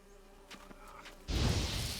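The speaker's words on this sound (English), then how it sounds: "More of these bees." Bees buzzing in the video game The Witcher 3: Hearts of Stone, starting faint with a few soft clicks and then swelling into a louder, dense, close buzzing swarm for the last part, with no talk.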